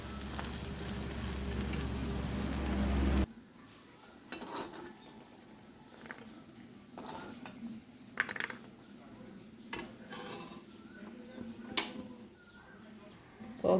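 Hot oil sizzles loudly and steadily while tempering (popu) boiled soya chunks in an Indian home kitchen, then gives way to quieter clinks and taps of utensils against the pan.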